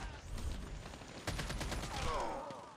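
Hip-fire gunshots in the mobile shooter Call of Duty Mobile, a quick burst of rapid automatic fire with crisp repeated cracks, fairly faint and close with no talking.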